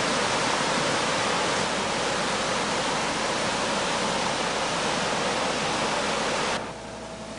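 Steady, loud, broadband roar of Cachoeira da Usina, a large rural waterfall with a hydroelectric plant beside it, rushing without pause and dropping in level just before the end.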